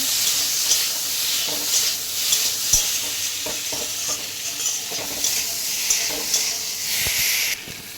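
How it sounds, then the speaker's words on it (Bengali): Boiled potatoes frying with spices in a pan for a Bengali mango-fish curry, giving a continuous hiss of sizzling with occasional stirring scrapes and taps, close and moderately loud. "একটু সেদ্ধ করে রাখা আলু একটু কষিয়ে নেব।"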